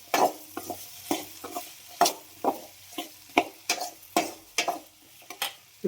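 Mango pieces frying and being stirred in a pan for mango pachadi, with repeated scraping strokes at a steady rhythm and a light sizzle underneath, close and fairly loud.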